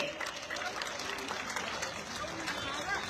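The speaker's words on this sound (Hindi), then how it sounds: "सब एक बार उनके लिए ताली बजाएंगे।" A crowd claps continuously at a moderate distance, a dense, even patter of applause with voices mixed in.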